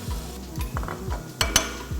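Shish barak dough fries in a hot pan over medium-high heat, a frying sizzle with repeated stirring scrapes, a steady crackle under rhythmic low thuds and a couple of sharper clinks.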